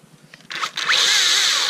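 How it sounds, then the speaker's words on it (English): A Makita DUC353 36-volt cordless electric chainsaw, powered by two 18-volt 5 Ah batteries, spins up from quiet into a loud, steady motor whine that holds close and constant to the end. "So it's an electric chainsaw with an on button."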